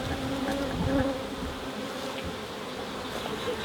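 A dense, steady buzzing of many honeybees around a hive fills the air, close and continuous with no talking.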